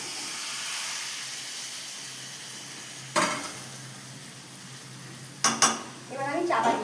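Chicken masala curry cooking in a covered pot, a quiet steady sizzle and hiss broken by a few sharp clanks of the lid and spoon against the pot, then louder stirring near the end.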